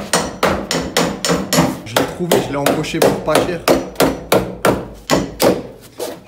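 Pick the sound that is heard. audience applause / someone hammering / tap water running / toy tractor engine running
someone hammering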